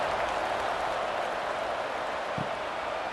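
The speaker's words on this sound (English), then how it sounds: "this crowd is buzzing after that last score" Crowd noise fills a college football stadium in Ohio at Rutgers after a touchdown, a steady broad roar holding level throughout with a brief low thump near the end.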